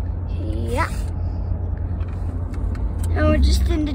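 A low, steady road rumble fills the cabin of a moving truck, with voices of a family talking briefly inside over the constant drone.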